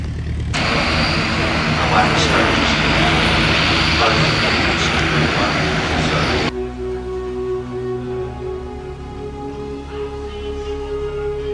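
An aircraft engine at an air show roars loudly and steadily for about six seconds, then cuts off abruptly, leaving a quieter low hum.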